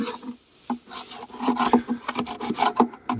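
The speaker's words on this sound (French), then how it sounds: "On gratte les crémaillères là, souvent c'est ce qui bloque les cadres." Close scraping of old wax and propolis off the wooden frame rests of a beehive, a series of short rasping strokes in an irregular rhythm, fairly loud and with no voices.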